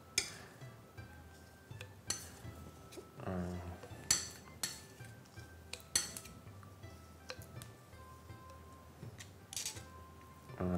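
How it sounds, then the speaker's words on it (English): Spatulas scrape and tap against a mixing surface while colored urushi lacquer is blended for a limited-edition fountain pen, giving quiet, close clinks and short scraping strokes at an uneven pace over a hushed room. "mix it once again, scrape off the spatulas to make sure all colors are mixed properly"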